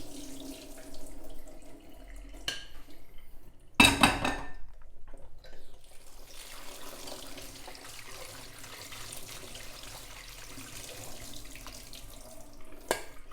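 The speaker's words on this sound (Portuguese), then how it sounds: "o que eu vou fazer agora é escorrer ela e lavar em água corrente novamente" Cashew nuts rinsed in a kitchen sink under running tap water: a steady, fairly quiet stream of water with light clinks of a bowl or utensils, one sharper clatter near the start, and no talking.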